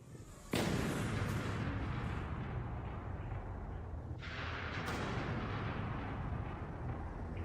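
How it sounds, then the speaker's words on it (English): A Waterloo-era bombardier's cannon fires with one sudden, very loud blast on a battlefield, followed by a long rumbling roar and echo that persists, with a second crack of reverberation midway. "they're about to see what happened when their 3 times great-grandfather, Bombardier Nathaniel Alme, was finally given the signal to fire."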